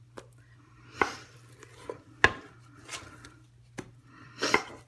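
Mashed potato is spread in blobs over a Chinese pie with a utensil, making about five soft, separate scrapes and dull taps against a quiet low hum.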